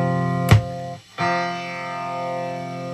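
A guitar through a 1979 MXR Stereo Chorus M134 pedal rings out with a sustained chord, briefly cut off and then struck again, shimmering on alone with a steady chorus wash.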